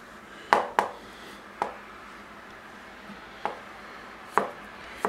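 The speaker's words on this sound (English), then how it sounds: "very finely chop the stems" A knife finely chops mushroom stems on a board, giving about seven sharp, separate chopping knocks at uneven intervals over a quiet background, close and clear with no talk.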